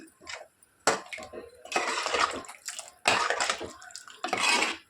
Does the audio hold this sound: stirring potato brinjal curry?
yes